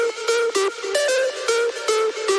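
A hardstyle synth pluck layer, panned slightly left, repeats short bright plucked notes in a steady rhythmic pattern, each note clipped off quickly, loud and dry with no voices.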